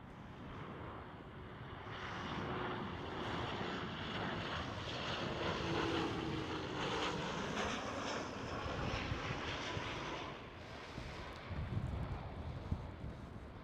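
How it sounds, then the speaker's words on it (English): A KLM Boeing 737 jet roars steadily at Schiphol Amsterdam, a broad, sustained engine rumble with wind buffeting, holding fairly constant for over ten seconds at moderate distance. "Next one up, another KLM 737."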